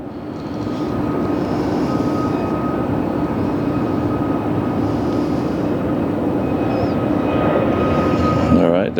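Loud, continuous roar of a jet airliner engine spooling up for takeoff at LAX, steady rumbling throughout with a faint whine above.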